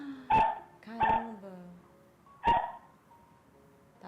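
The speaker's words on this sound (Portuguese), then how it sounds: "Olha, ele fica latindo." A dog barks in sharp, loud bursts, three barks spaced over a few seconds with quieter whimpering tones in between, at home while its owner is away, a dog with separation anxiety.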